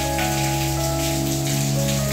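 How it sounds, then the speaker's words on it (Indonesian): A steady downpour drums loudly on a surface nearby, with a faint constant hum underneath and no talking. "hujan gede banget."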